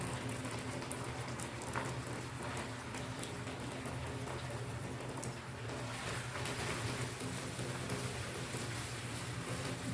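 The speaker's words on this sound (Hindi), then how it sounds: "ऑयल हमारा गर्म हो चुका है, अब हम इसमें भिंडियाँ डालेंगे इनको फ्राई करने के लिए।" Okra (bhindi) frying in hot oil gives off a steady, dense crackling sizzle, close and even, lasting throughout with no pauses and no voices.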